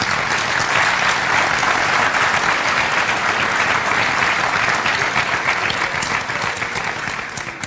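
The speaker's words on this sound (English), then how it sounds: "folks, at least give them a round of applause for being here." Audience at an evening community forum applauding the panelists, a steady, full round of clapping that holds strong for over seven seconds before starting to fade, with no talking over it.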